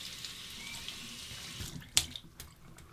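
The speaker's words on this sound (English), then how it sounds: "Wet the brush under the warm water." Warm tap water runs steadily into a sink as a shaving brush is wetted beneath it, a constant close splashing rush broken by one sharp knock near the end.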